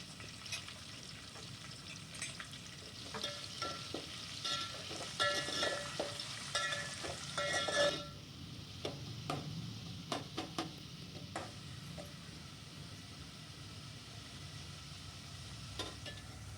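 Thinly sliced onions and green chillies sizzle in a home cooking pan for veg pulao, a steady soft crackle broken by clinks and scrapes of stirring, fairly quiet and close.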